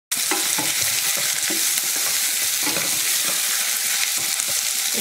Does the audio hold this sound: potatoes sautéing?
yes